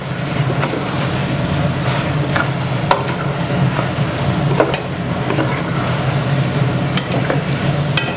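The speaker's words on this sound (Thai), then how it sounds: "หลังจากที่เราผัดไก่กับพริกแกงนะครับ" Continuous sizzling and stirring as chicken stir-fries with curry paste in a hot pot, a steady frying hiss with occasional scraping clinks of a utensil, close up, no talking.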